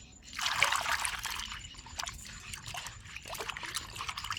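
Running water trickles and splashes as food is rinsed by hand, a steady close wash with small drips and no speech.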